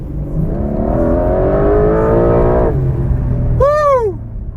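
A 2026 Porsche 911 Carrera 4 GTS revs hard and accelerates under a bridge, a loud, steadily rising engine note that drops off and then gives way to a sharp, high whistling sweep near the end.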